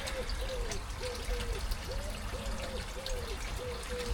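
Water trickles and splashes steadily through a homemade bakki shower filter on a koi pond, a continuous close pouring patter with a faint rhythmic pump-like tone beneath it and no voices.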